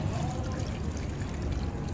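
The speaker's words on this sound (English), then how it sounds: "We need to put water until inundate" Water poured into a container of concrete aggregate in a materials-testing lab, a steady, dense rushing and splashing that continues unbroken and close.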